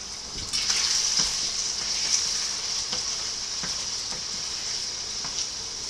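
Beef liver fries in oil for a Hungarian liver stew, with a steady bright sizzle and regular soft scraping taps as it is stirred around the pan, with no talk.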